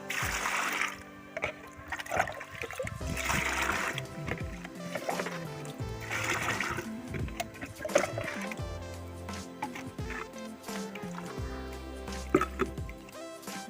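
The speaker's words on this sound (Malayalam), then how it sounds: "നമുക്കിനി ഒരു മൂന്നാല് കപ്പ് വെള്ളം കൂടെ അതിലേക്ക് ചേർത്ത് നേർപ്പിച്ചെടുക്കാം" Water trickles and drips into a container of cow-dung slurry as it is diluted for use as vegetable-plant fertilizer, with uneven splashing and gurgling pours close by and no talking.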